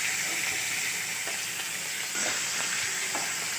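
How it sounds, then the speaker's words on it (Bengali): Pieces of kan fish, head and belly cuts, fry in oil with a continuous close sizzle and occasional small pops and spatters, no voices present. "এই মাছগুলো কিন্তু প্রচুর পরিমাণে ফাটে, তাই আমি সাবধানে ভাজবো।"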